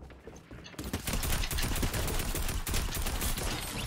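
Rapid, dense gunfire from a Fortnite match erupts after a brief quiet moment and keeps rattling loudly and continuously with no pauses.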